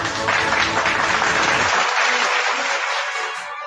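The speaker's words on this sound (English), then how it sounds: "let's give a round of applause for our speaker," Audience applause for a speaker at the close of a webinar session: a dense, steady wash of many hands clapping that carries on for a few seconds and then thins out slightly toward the end, with no voices over it.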